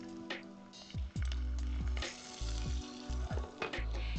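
Margarine sizzling and frying in a pot of golden caramelized sugar over medium heat, crackling bursts with stirring and squishing, close and alone without talk.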